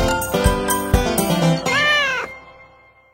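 A cat meows several times in quick succession, close and loud, ending with one long drawn-out wavering meow.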